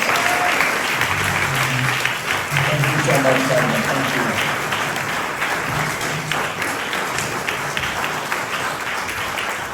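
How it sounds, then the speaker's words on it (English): An audience applauds a senator, sustained dense clapping from a crowd that holds steady and slowly thins, with a voice speaking briefly over it. "Round of applause."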